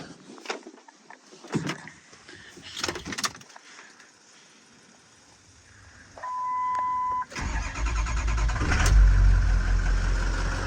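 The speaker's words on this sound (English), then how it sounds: "The truck actually starts right up and runs really, really well." A service truck engine cranks, catches and settles into a loud, steady run after several seconds of quieter scattered knocks and handling noises, with a brief electronic tone just before it fires.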